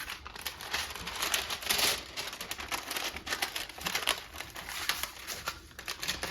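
Parchment paper crinkles and crackles steadily as it is folded around an Australian Wagyu steak, a soft continuous rustle with brief sharper crackles.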